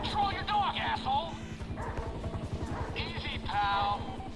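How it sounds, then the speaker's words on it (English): A dog in Grand Theft Auto V barks repeatedly in quick yelping bursts over a steady engine rumble, with voices talking alongside. "Control your dog, asshole."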